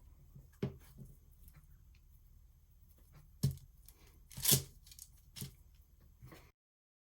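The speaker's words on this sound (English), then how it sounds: "I'm going to roll out the extra clay that we had, and we're going to cut out the little leaf that goes on top here." Polymer clay rolled out and a leaf shape cut from it, a few sparse soft clicks and scraping taps close by over quiet background, one louder cutting sound midway, no talk.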